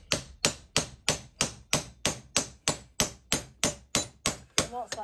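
A hammer taps a 6 mm steel piece through a spare steel former held in a vise, about a dozen sharp, evenly spaced metallic strikes that ring briefly, close and loud.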